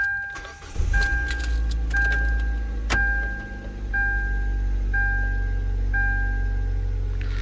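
A 2009 Hyundai Elantra is started with its keys. A regular warning chime beeps about once a second, keys rattle, and a sharp click comes midway, all over a steady low rumble.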